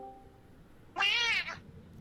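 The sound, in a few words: cat meowing in an Elder Scrolls video game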